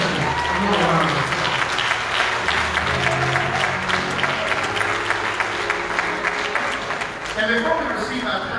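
Congregation applauding a mass choir during a Sunday worship service, a broad, continuous wave of clapping with some crowd noise and voices mixed in throughout.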